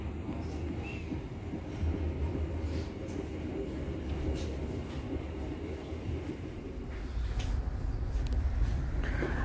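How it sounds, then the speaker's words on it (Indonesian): A local commuter train pulls out of Haurpugur station on a double-track line, its steady low rumble filling the carriage as the train gets under way and the sound swelling slightly near the end. "sekarang kereta api lokal yang saya naiki berangkat stasiun Haur Pugur"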